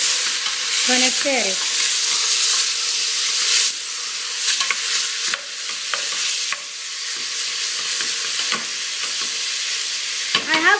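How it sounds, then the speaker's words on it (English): Lamb meat stirred in a pot for runner bean stew, a steady sizzle with scraping, clattering stirs throughout, loud and close, with no talk. "Now I'm gonna stir my meat."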